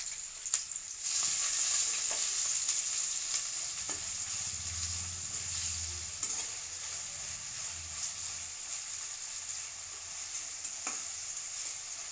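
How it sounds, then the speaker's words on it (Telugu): Sliced onions and green chillies frying in hot oil for a cauliflower masala curry, a steady soft sizzle with occasional stirring clinks, with no talking. "ఆయిల్ హీట్ అయిన తర్వాత సన్నగా తరిగిన ఆనియన్స్ గ్రీన్ చిల్లీస్ వేసుకుని ఫ్రై చేసుకోవాలి"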